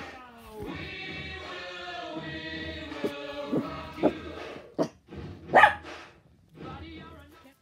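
A small dog gives a few short, sharp barks indoors, spaced out over several seconds, while a voice sings or hums steadily in the background.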